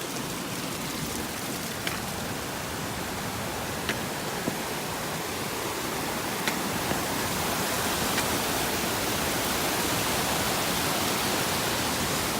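Creek water rushing steadily along the Berg Lake trail, a continuous broadband wash of flowing water that stays loud and unbroken throughout, with no voices.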